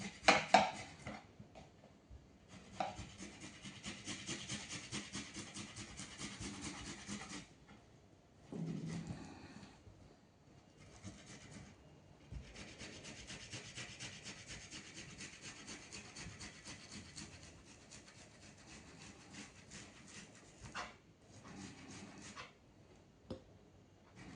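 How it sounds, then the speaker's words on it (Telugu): Boiled potatoes being grated by hand make close, rhythmic rasping strokes in long steady runs, broken by a couple of short pauses and the odd light knock. No one speaks. "ఇప్పుడు మనం ఈ ఆలూని ఇలా గ్రేట్ చేసుకోవాలి"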